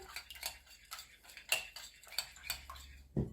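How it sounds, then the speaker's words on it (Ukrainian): A spoon clinks and taps against a bowl in quick, irregular strokes while stirring an egg with a pinch of salt, close by and fairly quiet. "Спочатку ложкою собі розмішую"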